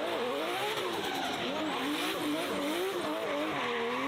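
James Deane's four-rotor Mazda RX7 drift car does donuts at the Goodwood Festival, its rotary engine revving hard over continuous, loud tire squeal and skidding, with no voices over it.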